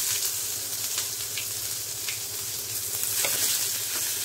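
Onion and garlic, added after asafoetida and cumin, fry in a pan for soya saag masoor dal tadka, producing a steady moderate sizzle with light scraping stirs now and then and no talking.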